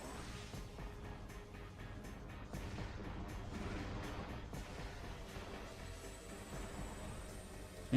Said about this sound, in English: Okay, it's 3 missile hits.